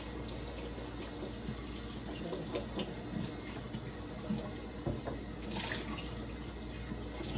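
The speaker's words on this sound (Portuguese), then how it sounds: "Tem umas sujeirinhas ali do pão, passar uma aguinha." Kitchen tap water runs steadily into a sink while a dish is rinsed after scrubbing off bread crumbs, a continuous close splash with small shifts in flow and no talking.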